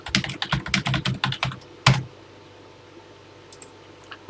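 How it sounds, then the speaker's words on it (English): Rapid typing on a Texas Instruments TI-99/4A home computer keyboard, a quick run of close, crisp key clicks for about two seconds ending in one heavier keystroke, then near silence with a few faint taps. "let's get typing"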